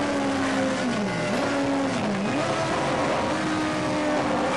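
A race car on a three-lane track just after the green flag, its engine note rising and falling through gear changes, loud and continuous with no talk.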